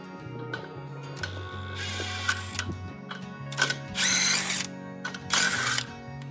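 A 3/8-inch drive ratchet works the 18 mm nut off the factory front shock of a Ram 2500, giving close, quick clicking bursts between short pauses and other mechanical rattles.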